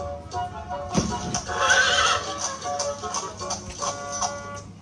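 Horses drawing a sparkling coach, eight of them: a whinnying neigh over rhythmic clip-clopping hooves, moderately loud with a faint voice beneath.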